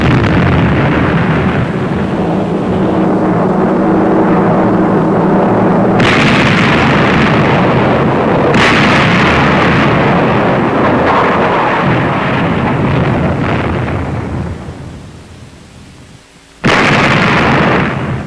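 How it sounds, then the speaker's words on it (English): Heavy battleship guns of the USS New Jersey firing a broadside during World War II, a sustained thunderous roar of blasts and rumbling that fades briefly before another loud boom. "It's when the guns are firing efficiently"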